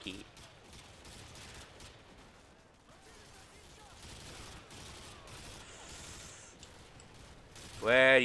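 Gunfire in Call of Duty: Modern Warfare 2 crackles as fairly quiet, busy bursts of shots throughout, and a voice speaks briefly at the end.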